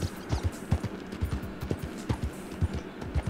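Horse hooves clip-clop at a steady riding gait in the Red Dead Redemption 2 video game, a close, even rhythm of hoof strikes with no talking.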